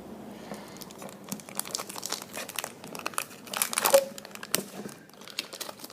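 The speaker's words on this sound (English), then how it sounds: "it's in a nice plastic wrapping, and just get that out" Plastic wrapping crinkles and tears as it is pulled off a 2x2 Rubik's cube, close-up rustling in irregular bursts that swell toward the middle, with no talking.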